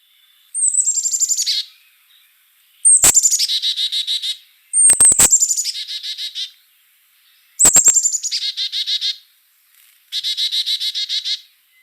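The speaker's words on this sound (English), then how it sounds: "So that sound is supposed to be chickadee dee dee dee." A Carolina chickadee calls five times in a row, each a high thin note followed by a quick run of buzzy repeated notes, clear and isolated with silent gaps between calls.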